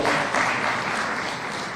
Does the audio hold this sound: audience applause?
yes